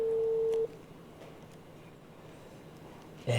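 Phone line after a rejected call: a steady electronic busy tone at the start, then a stretch of quiet line hiss, then the tone returning at the end.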